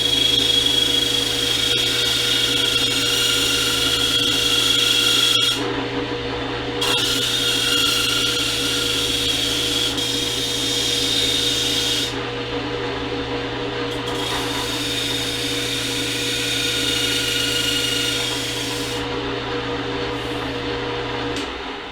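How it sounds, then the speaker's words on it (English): A powered shaping rasp whines steadily while beveling the edge of a rubber transmission mount insert for a 1999-2004 Jeep Grand Cherokee, a loud continuous grinding tone with small shifts in pitch, close and without talk. "using a shaping rasp, we're just going to take off this edge and give it a nice beveled edge"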